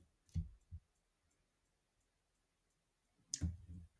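Computer mouse clicks while operating SharePoint: two quick clicks close together, a long quiet pause, then another sharp click cluster near the end, close and fairly faint.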